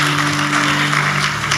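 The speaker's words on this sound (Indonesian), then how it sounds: "beri tepuk tangan buat Tuhan" A church congregation claps together in a brief, loud burst, with a steady low hum running underneath.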